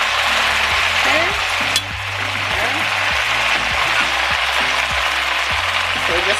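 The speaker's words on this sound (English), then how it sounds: "we're just gonna let that sizzle in that oil for about 2 minutes" Oxtail sizzles loudly in hot oil on a stovetop, a steady crackling hiss with some clinking underneath.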